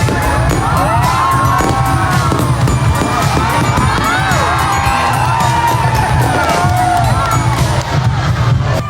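Loud, dense crowd noise fills the air with cheering and whoops at a fireworks display in Calasiao, Pangasinan, while dull bangs and crackles of fireworks go off repeatedly underneath.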